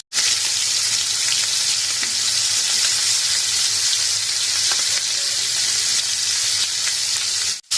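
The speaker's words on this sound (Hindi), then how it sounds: "2 मिनट के लिए हमने एक साइड इसको फ्राई किया। अभी इसकी साइड बदल लेते हैं। अलग साइड का शैलो फ्राई" Pieces of fish shallow frying on a flat tawa, dhaba style, give a loud, steady, close sizzle that runs unbroken from start to finish with no voices.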